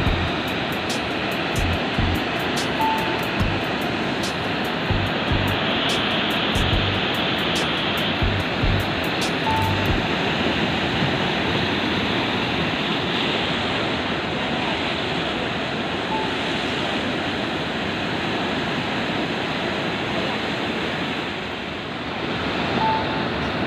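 Ocean surf at the Pelawangan Puger river mouth in Jember, a continuous broadband rush of waves and current, steady and fairly loud for the whole stretch with no voices.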